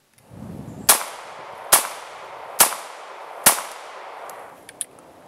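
A Glock Model 26 9mm compact pistol fires four sharp, loud shots at a steady pace of nearly a second apart, each with a short ringing tail, followed by faint metallic clinks.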